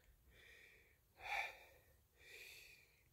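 Heavy, quiet breaths after lunges with two 16 kg dumbbells: three close, airy exhales and gasps, with the middle one sharpest.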